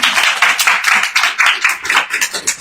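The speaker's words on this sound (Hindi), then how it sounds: "बच्चों की हौसला अफजाई के लिए जोरदार तालियां।" An audience claps warmly and steadily at a Christmas program, a dense wash of many hands applauding close by with no talk over it.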